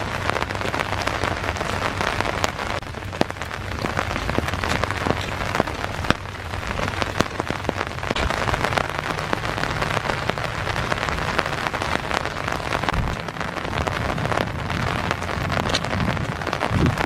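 Rain falls steadily in Iroquois Park on a cold, foggy morning, a dense patter of drops striking nearby surfaces with occasional louder splats, continuous and close, no voices.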